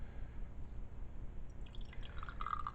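Water splashing and dripping quietly inside a glass flask being rinsed out during a blue bottle chemistry demonstration, soft liquid sloshing with a few clear drips near the end.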